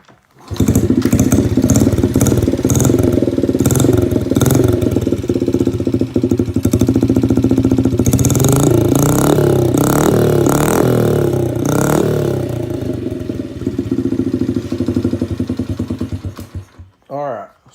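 A dirt bike with no baffle starts and runs, its loud, rough exhaust blatting and revving close by for most of the stretch before cutting out near the end.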